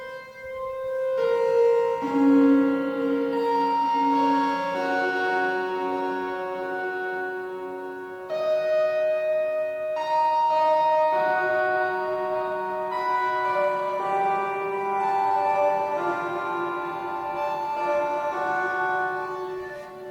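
ASM Hydrasynth synthesizer plays sustained chords and shifting notes through reverb and distortion effects, giving rich, lingering tones that swell and change across a continuous passage.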